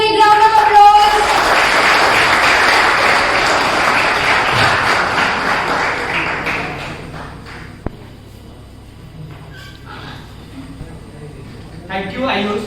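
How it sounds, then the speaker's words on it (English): An audience at an engineering college fest orientation program bursts into loud applause that fades over several seconds, followed by a quieter room with scattered thumps and a speaker beginning to talk. "Please give a big round of applause."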